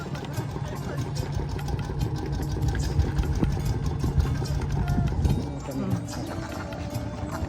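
A fishing boat's engine on a river at Paler Char ghat runs with a steady, fairly loud low chug and throb for the whole stretch, with voices talking over it.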